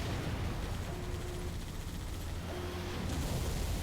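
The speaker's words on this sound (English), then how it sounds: "Okay, the explosion isn't that big." A low, rumbling explosion in the video game Halo Reach, a sustained muffled boom with steady roar and no talk over it, moderately loud throughout.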